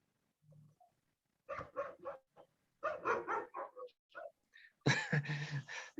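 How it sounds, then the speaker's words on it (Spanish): Several dogs bark and yip in short bursts, with a brief whimper at the start, fairly close and otherwise alone. "Le salieron los perros a Felipe por ahí."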